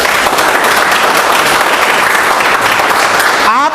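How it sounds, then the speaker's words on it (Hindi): Loud, dense applause from an audience at a training seminar fills the whole stretch, a steady wash of many hands clapping that cuts off abruptly near the end. "तो सेलिब्रेट करो, ताली बजाओ अपने लिए।"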